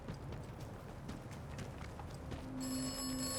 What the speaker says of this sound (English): there's a phone box. Let's see if this one rings